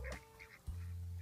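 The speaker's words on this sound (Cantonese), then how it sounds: "然後嗰度有兩隻鴨仔" A pair of backyard ducks, one brown drake and one white hen, give a short burst of quacks up close, a brief call followed by a lower, rougher honking quack.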